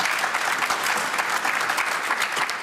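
Dense, steady studio audience applause on a televised political debate panel, sustained hand-clapping filling the room without pause and with no talk over it.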